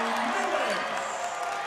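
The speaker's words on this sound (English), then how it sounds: "Had to let you hear the crowd pop" A men's college basketball crowd in a gym roars in a short, dense burst of cheering after a fade-away two-pointer drops in during Middle Georgia State against Abraham Baldwin Agricultural College.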